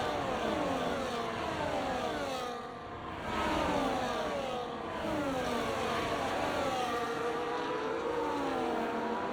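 Ferrari race car engine roaring in a racing video game, a steady high-revving drone that dips briefly in pitch and volume as it climbs over a hill and heads into a turn, with no talk.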